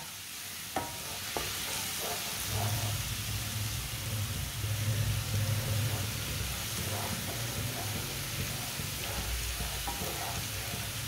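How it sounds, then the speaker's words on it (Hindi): Garlic browning in a pan, a steady close sizzle with soft scraping and clinking as a spoon stirs it, continuous throughout with no talk. "लहसुन को हल्का सा ब्राउन कर लेंगे। 2 मिनट के लिए पका लेंगे।"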